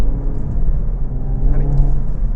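A 2019 Renault Megane Trophy 300 with a turbocharged engine and manual gearbox, driven hard through a heel-and-toe downshift. The engine drones loud and close with a slight rise in revs midway, and no one speaks.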